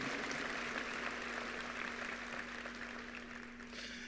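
Applause from a school ceremony audience welcoming introduced guests, steady and fairly soft, sustained clapping from a crowd in a hall with a constant low hum underneath, tapering slightly near the end.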